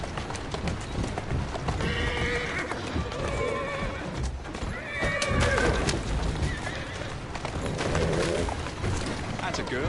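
A horse in Assassin's Creed Syndicate whinnies repeatedly over the clip-clop of hooves, with a person talking alongside; the sound has a clean, synthetic game-like quality.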